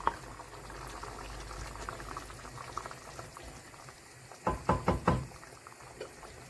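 Indonesian beef curry bubbling in a pot, a steady low simmer that runs throughout, with a few sharper knocks or clatters near the end.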